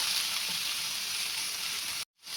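Tomatoes sizzle with browned onions in a pan while Maharashtrian Bazar Amti is cooked, a steady close frying hiss with soft bubbling that cuts out abruptly near the end.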